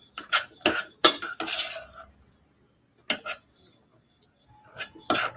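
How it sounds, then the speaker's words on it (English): Metal spoon clanking and scraping against a pot while smashing cooked apples for applesauce, quick bursts, a run of clattering strikes, a pause, then a few more knocks, close and fairly loud. "Spoon smashing."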